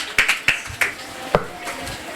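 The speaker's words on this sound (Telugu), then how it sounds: "ఇప్పుడు చప్పట్ల ధ్వని" Several sharp hand claps ring out irregularly, spaced a fraction of a second apart, close and crisp against a quiet room during a church prayer service.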